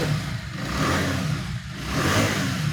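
A Honda Hornet motorcycle in fresh condition revs its engine in a steady, smooth, continuous drone that swells twice, close by and loud, with no talk.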